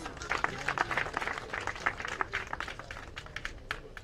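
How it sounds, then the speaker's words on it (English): Scattered clapping from a small crowd, uneven and moderately loud, with sharp individual claps standing out over a low background murmur. "He deserves another round of applause, please"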